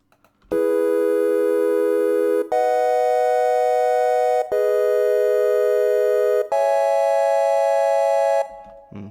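Four harsh, buzzy synth chords play in sequence, each held about two seconds with abrupt changes, thin and grating like old game music.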